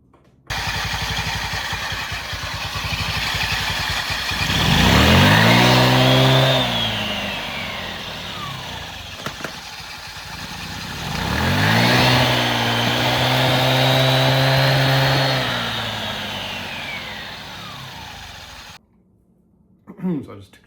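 A Honda Ruckus scooter built for off-road riding passes close by twice, its engine revving up and then fading each time, with steady engine noise in between and silence at the end.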